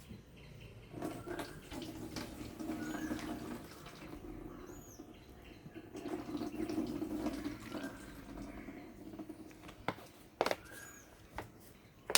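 About 50 ml of liquid is poured into a 16-litre sprayer, giving two quiet stretches of trickling, splashing flow, followed by a few sharp clicks and knocks near the end.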